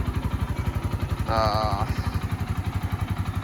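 A 2020 GPX Demon GR 150cc motorcycle engine idles steadily nearby with a rapid, even putter, and a brief higher whine rises over it partway through.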